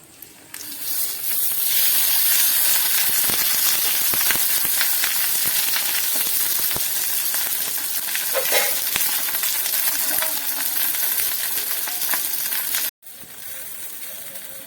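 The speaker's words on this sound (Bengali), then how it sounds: "এবার আমরা মাছটাকে উল্টে নেব।" Fish wrapped in banana leaf fries on an oiled griddle, giving a steady loud sizzle with scraping and clinks as it is flipped, then a brief cut near the end before the frying resumes.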